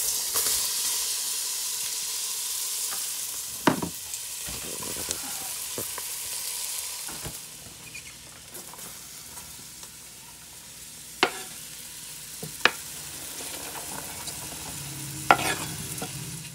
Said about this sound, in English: I want to brown the flour, get it to a little bit of a brown texture.